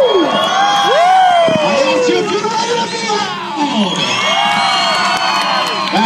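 A crowd at a Six Flags sea lion show cheers loudly, with whoops, shrill children's shouts and overlapping voices swooping up and down, a near, continuous roar of excitement.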